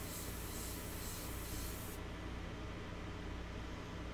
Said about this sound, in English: This is almost like sketching with the airbrush.